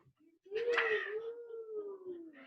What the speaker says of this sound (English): the howl from the mom kept getting louder and louder